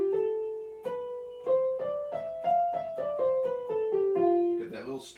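Single melodic notes step through an F Lydian scale, roughly a dozen evenly spaced clear tones climbing then descending, with a brief voice breaking in at the end.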